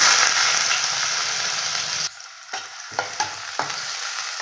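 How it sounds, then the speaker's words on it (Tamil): Sliced onions sautéing in hot oil with popped mustard seeds for chicken gravy, a steady close sizzle that drops off partway, followed by a few sharp scraping stirs of a spatula against the pan. "வெங்காயம் நல்லா வதக்கலாம்."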